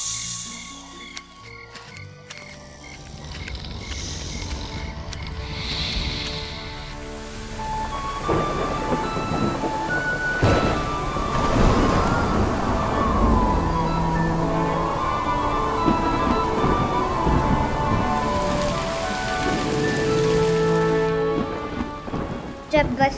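Heavy rain pours steadily under rolling thunder, a thunderstorm effect that swells and stays loud and dense throughout, with a booming crack near the middle and no voices.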